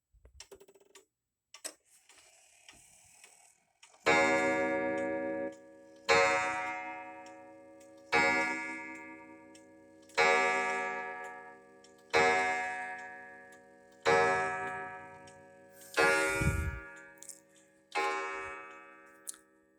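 A 1930s Junghans art deco box clock ticks softly, then strikes a resonant gong chime about every two seconds, each stroke ringing out and fading before the next.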